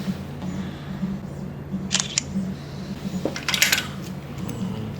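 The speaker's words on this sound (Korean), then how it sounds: "요 정도 꺼내 놓고 다시 한방 찰칵" A camera shutter clicks while photographing the wiring of an electric bicycle during an extra battery installation, with a couple of sharp, close clicks over a quiet, humming room.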